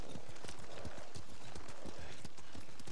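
Horse hooves clip-clopping in Ghost of Tsushima, a rapid continuous beat of hoofbeats close and steady across the whole stretch.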